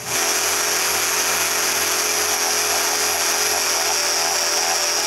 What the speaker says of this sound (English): Next, I sand the plate real nice.